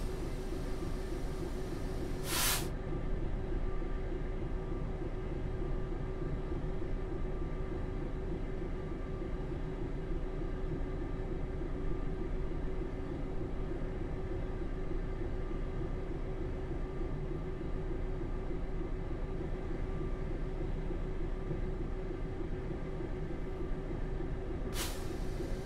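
A Class 66 diesel locomotive in the video game Train Simulator 2015 hums and rumbles steadily under load on a UK freight run, with two sharp clanks near the start and end.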